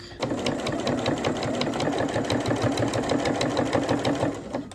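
A domestic sewing machine stitches binding around a quilted placemat, a close, rapid, rhythmic needle clatter running continuously after a brief start, with no speech.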